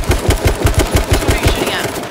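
Loud automatic gunfire in the video game H1Z1, a series of sharp, evenly spaced shots in rapid rhythm across the whole stretch, with no talk over it.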